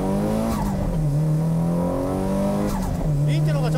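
A Honda Integra Type R and a Nissan Silvia race up a mountain pass, engines droning loud and close with shifting pitch as they rev through the gears, under steady Japanese commentary.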